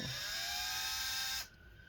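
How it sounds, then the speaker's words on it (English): An electric drill whines at high speed while working on a Lenovo Yoga 720 laptop. The steady buzzing tone runs loud for about a second and a half, then cuts off sharply to a quieter hiss. "using the drill on different models that are kind of built like this."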